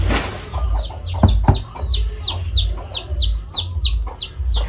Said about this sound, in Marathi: आणि कोंबडी आली धावून लगेच त्याच्या पिलाला